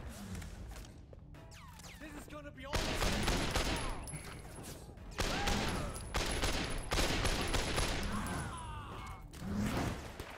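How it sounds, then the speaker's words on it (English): Gunfire and explosive blasts from a Sleeping Dogs video game shootout, including a grenade launcher, come in loud dense bursts with heavy thuds across the clip, mixed with game sounds and a voice. "Headshot with the grenade launcher"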